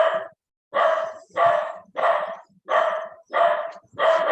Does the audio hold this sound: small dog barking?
yes